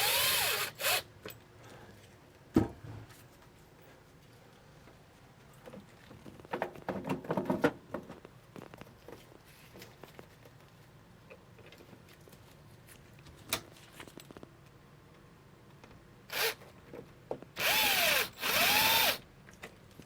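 A power drill drives screws into a MaxxFan Deluxe roof vent during an RV install, in a few short bursts and one longer steady whir near the end, close by, with quiet handling noise in between and no speech.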